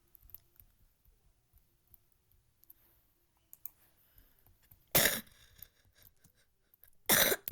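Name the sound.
coughing from a cold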